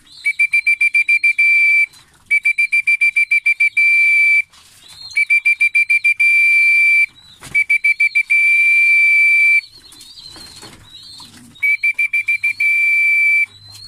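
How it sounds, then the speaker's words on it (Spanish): A loud, high whistle calls racing pigeon squabs to food, sounding in repeated bursts of rapid trilled pulses alternating with long steady tones, with short pauses between the bursts. "Es muy importante empezarles a enseñar el silbato, para que sepan que el silbato es la comida."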